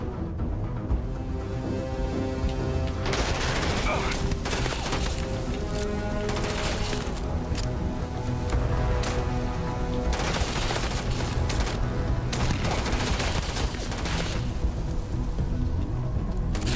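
Sustained gunfire in Starfield, rapid bursts and volleys packed densely together, loud and close, with a steady roar beneath and no pauses across the stretch.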